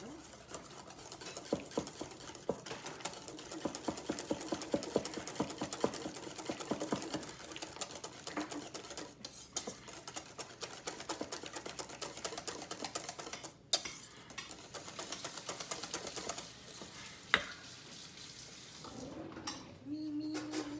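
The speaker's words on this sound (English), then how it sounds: "Whisk it up." Apple horseradish cream is whisked in a bowl, making a faint, rapid and continuous rhythmic clatter of the whisk against the bowl that runs steadily throughout.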